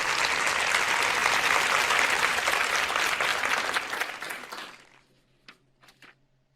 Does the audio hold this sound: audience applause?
yes